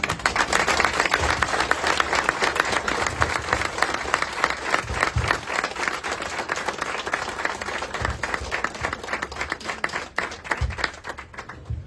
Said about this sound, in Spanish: Y fuertemente le brindamos fuertes, pero fuertes aplausos